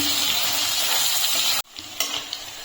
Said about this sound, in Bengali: চিংড়ি মাছটা আমি 1-2 মিনিট ভেজে নিয়েছি, আর হালকা একটু ভেজে নিচ্ছি।